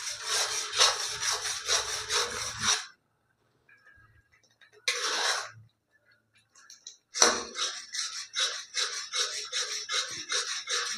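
A spoon scrapes briskly around a pan of nolen gur sandesh mixture, rapid rhythmic rasping strokes in close bursts broken by a few seconds of near silence.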